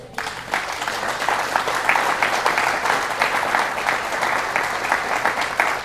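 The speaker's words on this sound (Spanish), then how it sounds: "Denle un aplauso al Señor." Church congregation applauding the Lord during a Spanish-language sermon, many hands clapping in a sustained, fairly loud wash that swells after a quiet start and holds steady to the end.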